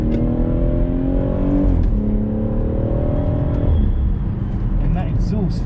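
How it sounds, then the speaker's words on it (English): BMW M140i on a track day, stock exhaust droning loudly as the engine revs up through the gears, pitch climbing then dropping at two shifts, close and continuous under someone talking. "And that exhaust."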